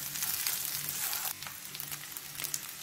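Rice fries in a pan with garlic and tomato, giving a continuous soft crackling sizzle of moderate level, steady throughout with a slight dip midway and no talking.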